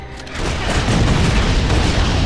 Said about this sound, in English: How else can you get a double explosion like that?